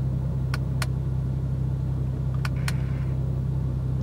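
A Porsche 911 Carrera (991.2) 3.0 twin-turbo engine idles with a steady, deep rumble, with a few faint clicks over the constant low drone.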